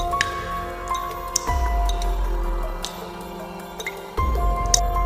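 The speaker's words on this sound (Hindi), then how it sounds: "उसके चारों ओर पानी की बूंदें टपकने की" Scattered water drops fall in a cave at irregular intervals, each a small plink with a hollow echo, over a low ambient rumble.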